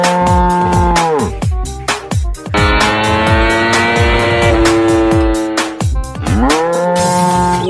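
A toy cow gives a loud, drawn-out electronic moo, repeated in long sustained calls with clicking and rattling in between.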